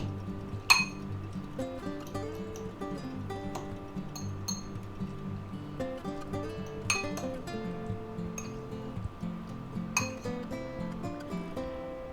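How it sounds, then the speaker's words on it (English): Ingredients being mixed and gently folded in a bowl for an egg, ham and cheese pie, with a steady run of light clinks and taps of utensil against the bowl, soft and close. "And we're going to mix that in. Kind of fold it in gently."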